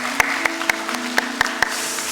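A church congregation claps after a prayer. The applause is brief and fairly faint, with a handful of sharper individual claps standing out over a low sustained tone.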